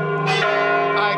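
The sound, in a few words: church bell ringing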